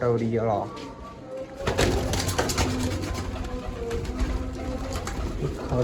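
Soft pigeon cooing runs beneath busy chatter and background noise, the low murmuring calls repeating throughout.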